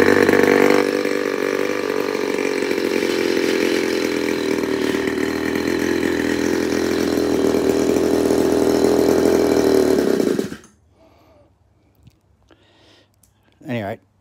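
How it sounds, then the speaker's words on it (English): A small engine fitted with a new CDI ignition runs loudly and steadily at a rough, poorly set throttle, then cuts out abruptly, followed by quiet handling noises and a brief knock. "my throttle is obviously not set right, but the CDI works, Jack, so there we go."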